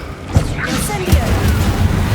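Incendio fire spell cast in Hogwarts Legacy, a burst of flame with a thumping whoosh around the one-second mark over a busy game backdrop of low rumbles and mid-range swells.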